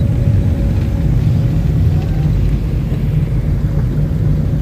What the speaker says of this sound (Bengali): এই মুহূর্তে পরশ ড্রাইভিং করছে, আপনারা দেখছেন